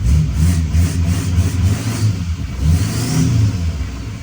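A Chevrolet L5P Duramax diesel truck engine with a newly installed turbo revs up and settles in steady, close-up pulses, a deep rumble with a faint whistle riding above it.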